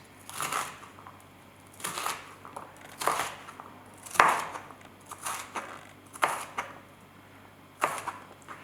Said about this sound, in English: So that's how I cut the pepperoni